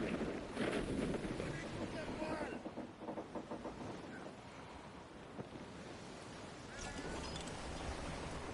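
Wind rushes over open water with waves and the creak of a sailing ship in Assassin's Creed Black Flag, a game soundscape with a voice briefly talking over it.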